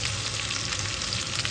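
Food sizzles and fries steadily in a pan while coriander is added, a continuous close crackling hiss with no talking.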